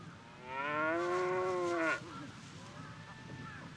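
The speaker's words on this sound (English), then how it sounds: "A herd of cows seems to be the cause of alarm." A cow in a herd of cattle on Hokkaido gives a single loud, drawn-out moo lasting over a second, followed by a fainter, more distant moo.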